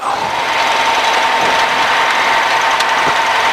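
Light aircraft engine, registration G-BOIL, running steadily at about 1700 RPM during pre-flight power checks at Barton, a constant loud drone with no break for the whole stretch.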